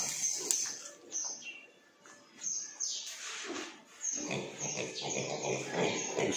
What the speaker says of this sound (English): small pig which Jean thought was off colour is back to normal